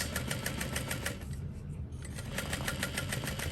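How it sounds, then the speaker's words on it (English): A sewing machine stitches a seam on a knapsack, running in a fast, steady mechanical rhythm at close range with a brief slight dip midway. "I'm just gonna sew at like a 1/4 inch seam allowance, 3/8 of an inch, something like that"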